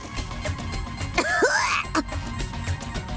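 A character in the video game Star Control: Origins gives a single short, raspy cough or throat-clearing sound mid-clip, close and fairly loud, over a low game background hum.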